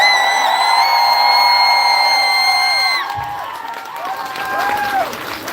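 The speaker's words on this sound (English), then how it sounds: "Please give them one more time, big round of applause" Audience at a figure skating press conference and small medal ceremony cheering for medalists, loud whoops and shouts with applause, a sustained high cheer that drops off midway before renewed cheering swells, voices calling out over the crowd.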